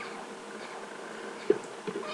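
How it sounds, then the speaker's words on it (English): A domestic cat lets out a faint short meow indoors, then a softer second call, under a steady background hiss. "Dang cat. Been a brat during my video."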